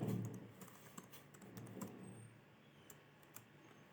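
Computer keys tap out a soft, irregular burst of typing into a spreadsheet, quiet and close, with a few sharper clicks spaced along the way.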